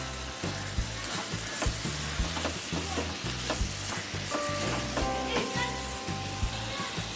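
Chopped cashews and almonds sauté in a pan for a banana halwa, giving a soft steady sizzle with repeated scraping stirs and light metallic clinks, fairly quiet.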